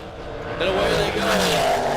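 Drag racing dragsters, including a Race Tech dragster, launch down the track at a weekend bracket race, engines roaring loudly and building into a surging rush, with an announcer talking over it.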